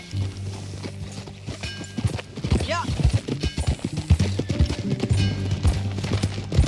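Horse hooves clip-clopping in a steady walking rhythm in Red Dead Redemption 2, with a brief whinny and a voice speaking briefly over a low hum.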